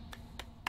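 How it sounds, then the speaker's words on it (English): Three quick, faint hand claps spaced evenly across a brief moment, quiet and without any talk. "I'm clapping because I'm entertained"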